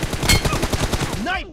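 Rapid gunfire in PUBG Mobile, a quick loud string of shots over about a second, followed by a short in-game voice line.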